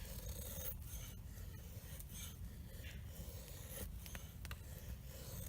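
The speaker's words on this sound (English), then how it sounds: "I can tell I'm a little out of practice with the flat grind for feather sticks. But the knife does bite in." A flat-ground knife, compared against a Cold Steel Finn Wolf and an Opinel #9, shaves feather sticks from twisty, hard-to-split wood in close, quiet rasping strokes, repeated scraping cuts through the clip with no talk.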